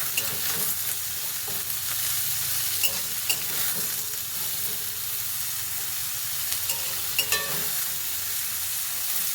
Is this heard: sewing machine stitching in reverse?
no